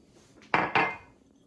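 Two quick, sharp clinks of a utensil striking a bowl, one right after the other, as an egg mixture with yeast is beaten, with quiet moments before and after.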